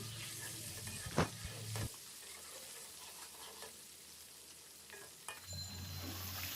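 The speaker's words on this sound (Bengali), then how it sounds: "এগুলো দিয়ে আমি ভালো করে একটু ভেজে নিব ডিমগুলো লাল লাল করে" Eggs fry in hot oil seasoned with salt and turmeric, giving a steady close sizzle broken by a few sharp scraping stirs and clinks, with no talking.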